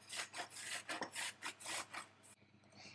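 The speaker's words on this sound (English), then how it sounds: "Now we are going to grate it with a grater." Peeled ginger rubbed over a grater in a quick, even series of raspy strokes, close and fairly quiet, with no voices.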